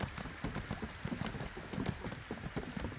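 Hooves of a summoned horse mount in an Elder Scrolls video game clip-clop in a steady, close, rhythmic patter with no talk over them.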